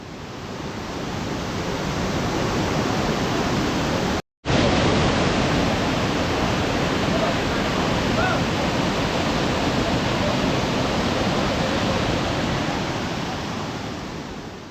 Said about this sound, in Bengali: ব্রিজের ওপাশে একটা জলপ্রপাত আছে আর জলটা ব্রিজের তলা দিয়ে ওপাশে চলে যাচ্ছে